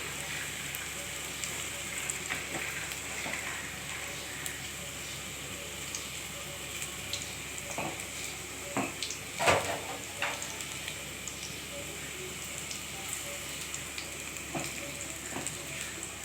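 Small hinche (water spinach) pakoras fry in hot oil, giving a steady close sizzle and crackle with occasional louder pops and stirring clinks, no talk.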